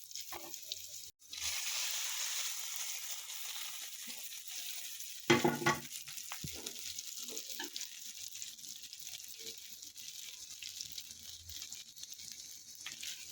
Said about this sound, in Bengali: সরিষার তেল দিয়ে আমি হচ্ছে একটা শুকনা মরিচ আর রসুন আর পেঁয়াজ দিয়ে বাগার দিয়ে নেব